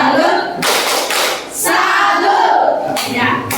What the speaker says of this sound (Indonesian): Mari kita tepuk salut.